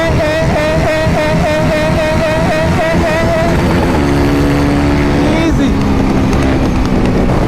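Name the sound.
car engine running while driving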